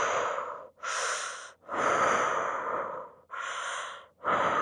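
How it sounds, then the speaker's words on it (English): Slow, deep breaths during a fascia stretching class: a long inhale followed by drawn-out exhales, each breath loud and close, with brief pauses between them and no talking. "And breathe in and exhale."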